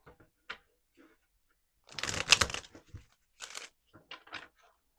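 A deck of cards shuffled close by in a quiet room: a brief riffle burst in the middle, with a few scattered soft taps and flicks before and after.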